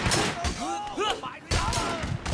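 Enemy gunmen fire at the player in Sleeping Dogs. Sharp bursts of shots ring out at the start and again midway, with a voice talking between them.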